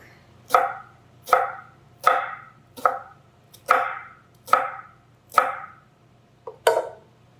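Onion sliced on a cutting board before going into bacon grease, eight evenly paced knife chops landing about once every three-quarters of a second, close and crisp with quiet between strokes.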